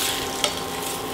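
Thin-cut milanesa-style beef for alambre sizzles steadily in a hot pan, a constant close frying hiss with one brief stirring scrape partway through and no voices.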